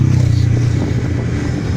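Honda Beat FI scooter riding on a busy road, with a steady low engine hum and road rumble close by throughout.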